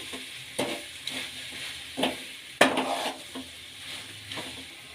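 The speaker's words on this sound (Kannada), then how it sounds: "ಈಗ ಕಡೆಯದಾಗಿ ಕೊತ್ತಂಬರಿ ಸೊಪ್ಪನ್ನ ಸೇರಿಸ್ಕೊಳ್ಳೋಣ. ಮಿಕ್ಸ್ ಮಾಡ್ಕೊಳ್ಳೋಣ." Coriander leaves are stirred into raw mango chitranna in a pan: a handful of separate scraping strokes, one sharper than the rest, over a faint steady sizzle with no talking.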